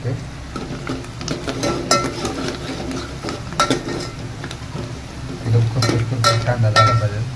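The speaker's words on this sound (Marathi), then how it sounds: "आपण घेतले टमाटर धुवून मस्तपैकी आणि आता कांदा मस्तपैकी भाजते." Onion roasts in a pan for Kolhapuri chicken rassa, a soft frying sizzle under repeated spoon scraping and stirring with occasional metallic clinks of utensil against pan, close and moderately loud.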